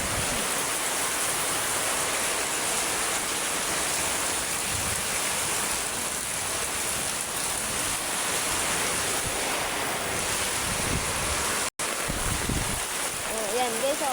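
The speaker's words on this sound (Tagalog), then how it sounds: "Lakas ang hangin, guys, oh." Strong wind roars outdoors during a rainy, thundery storm, a constant broadband rush with gusting swells and a brief dropout near the end.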